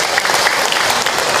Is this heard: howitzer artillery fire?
no